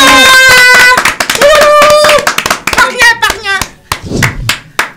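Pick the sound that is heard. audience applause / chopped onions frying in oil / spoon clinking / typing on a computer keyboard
audience applause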